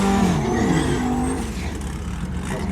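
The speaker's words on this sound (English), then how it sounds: "did a terrible burnout." Twin-engine drag car doing a burnout at the strip, a loud sustained engine roar with low rumbling harmonics that dips slightly partway through.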